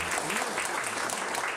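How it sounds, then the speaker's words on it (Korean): An audience at a 2013 Gyeongbuk disability sports policy workshop gives warm, sustained applause. The clapping is steady and moderately distant, with a voice heard faintly beneath it. "여러분 따뜻한 박수 보내주시기 바랍니다."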